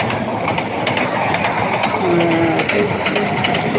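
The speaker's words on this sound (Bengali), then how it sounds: "ট্রেন চলতেছে এখানে" A ride train runs at the Gazipur cottage industry and trade fair at night, giving a steady rolling clatter with a hissing wash that stays at an even, fairly loud level throughout.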